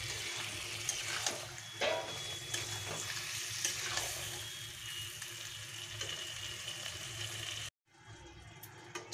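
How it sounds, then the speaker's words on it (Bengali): Chicken masala cooks covered over a low flame, giving a steady broadband sizzle and bubbling with occasional stirring knocks, close and continuous until it cuts away near the end, then resumes more quietly. "এটা ঢেকে ঢেকে একদম লো ফ্লেমে এটা রান্না করতে হবে"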